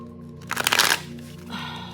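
Tarot cards being shuffled in a single quick riffling burst lasting about half a second, close and crisp, followed by a faint rustle.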